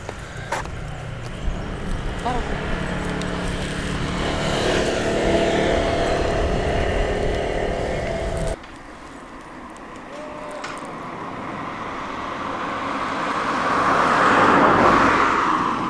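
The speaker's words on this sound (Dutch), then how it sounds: "Maar best wel wat verkeer doorheen gaat trouwens" Cars and other road traffic roll through a narrow street in a small southern German village, passing close and loud before fading into a quieter stretch, then another vehicle approaches and swells near the end.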